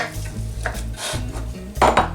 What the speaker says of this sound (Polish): Należy go teraz rozdrobić.